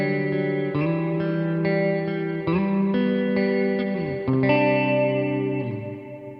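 Guitar pedal reverb built to emulate a Big Sky cloud reverb, washing over sustained, chorused chords that change every second or so in a steady, lush, shimmering wall with long, smeared tails and no voices.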